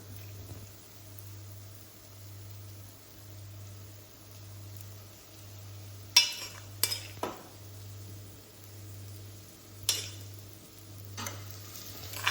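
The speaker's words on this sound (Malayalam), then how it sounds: "ഇനി നമ്മൾ നേരത്തെ മാറ്റി വെച്ച കൂന്തൾ ഇതിലേക്ക് ഇടാം" Squid stirred into masala in a pan for a Kerala-style squid roast, with a few sharp utensil clinks and scrapes over a steady low hum and a soft sizzle. No one speaks.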